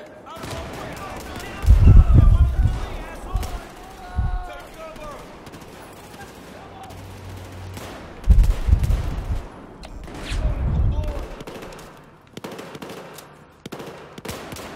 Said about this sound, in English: There's people shooting at us.